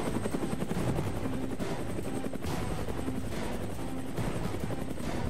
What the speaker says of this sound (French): J'ai demandé un hélico de combat pour m'amuser.